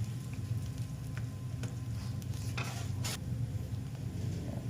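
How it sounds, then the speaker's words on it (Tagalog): Onions being stirred and sautéed in a pan for chicken masala, a steady low sizzle with soft scraping stirs and a few brief clinks, close and continuous throughout. "lutuin po ng mabuti ang sibuyas hanggang mag golden brown. Yan, haluin lang po natin"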